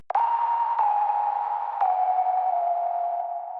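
A synthesized whistle tone in FL Studio sustains smooth, lightly stepped notes, heavily compressed and washed in reverb so each note blends into a lingering, airy tail.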